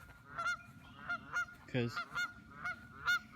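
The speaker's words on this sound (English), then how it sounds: "there's two geese up here, they're Canadian geese" Two Canada geese honk repeatedly at fairly close range, giving a steady series of nasal calls about every half second, with a brief spoken word heard faintly among them.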